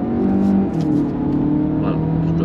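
Audi Q3 45 TFSI e plug-in hybrid pushed to full throttle while merging onto a 110 km/h expressway, a steady loud engine drone rising in pitch from inside the cabin.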